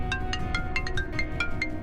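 A phone rings at home late at night, a rapid repeating electronic chime pattern of bright pulses over a low background hum, heard alone without talking.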